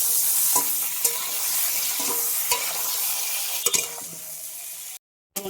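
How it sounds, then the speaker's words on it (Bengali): Eggplant pieces frying in a pan with a little turmeric and no salt, a steady close sizzle with occasional stirring clicks and scrapes, then a brief cutout near the end. "আমি বেগুনগুলোকে ভেজে নেব। লবণ দেবো না, হালকা একটু হলুদ দিয়ে ভেজে নেব।"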